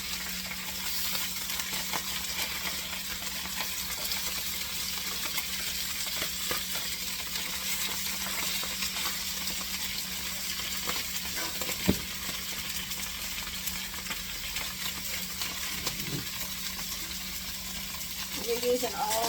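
Steady broadband sizzle of salmon skin frying skin-side down in a hot pan, continuous throughout, with a few faint clinks and a hum underneath.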